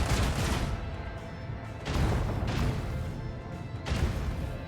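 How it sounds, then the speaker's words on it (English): Starship starboard guns fire at incoming torpedoes in the Rogue Trader video game, three heavy volleys of booming gunfire about two seconds apart, each decaying into a rumbling tail. "we'll pull up like this and fire the starboard guns to the torpedoes"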